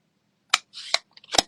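Scissors snip paper shapes in a quiet room: three or four sharp, close cuts spaced unevenly over about a second, with a brief papery rustle between them.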